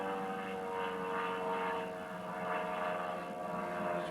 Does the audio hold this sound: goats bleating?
no